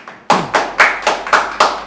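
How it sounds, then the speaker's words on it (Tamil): Hand claps close by, about six sharp, evenly spaced claps in a steady rhythm, loud and alone, with no talking, in a home kitchen while homemade ice cream is being made. "எல்லாம் வந்து கைத்தட்டி உற்சாகப்படுத்துங்கள்"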